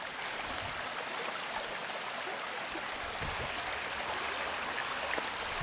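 A river flows as a steady broadband rush and gurgle, close and continuous, with no voices.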